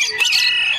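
A rooster at the Malabon pet market gives a single brief, loud, close crow, lasting under a second.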